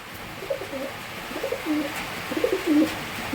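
Madras pigeons kept for flying give soft, low, close coos in a few short bursts over a quiet background hiss.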